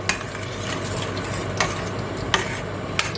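Button mushrooms sizzling in a hot pan, with a spoon stirring and scraping through them and a few sharp clinks of the utensil against the pan over a steady fry.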